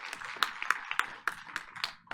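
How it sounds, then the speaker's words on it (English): An audience at a board of education meeting claps sparsely and quietly. A few hands produce irregular sharp claps for about two seconds. "y'all can clap for Dr. Beckles if you like"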